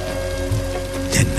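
Steady rain falling on a surface, a dense continuous patter with brief louder splashes near the end, close and moderately loud with no talk.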